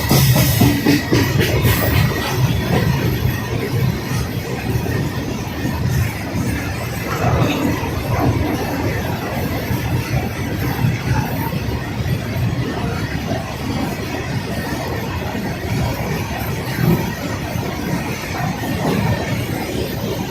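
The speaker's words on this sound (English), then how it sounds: "भारतीय रेलवे के इतिहास में पहली बार ये 4 वैगनों का कॉम्बिनेशन आपको दिख रहा" An extremely long Indian Railways freight train, about 2.5 km of four coupled wagon sets, rolls past nearby. It gives a continuous loud rumble with rhythmic wheel clatter and faint squeals that carry on for the whole stretch.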